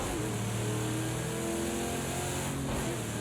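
Engine of a 1969 Camaro Trans Am in the Project Cars 2 racing game, accelerating hard: a loud, continuous mid-pitched engine drone that rises steadily in tone and stays full throughout.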